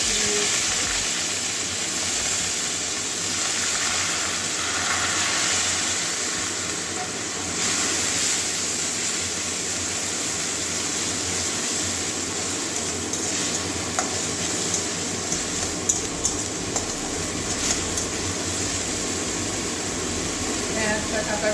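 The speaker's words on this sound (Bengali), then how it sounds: "ব্রাউন যাওয়া পর্যন্ত ভাজবো" Chopped onions with a dried red chilli fry in oil in a pan for a potato and pointed gourd curry, giving a steady, close hissing sizzle throughout, broken by occasional clicks and scrapes of stirring.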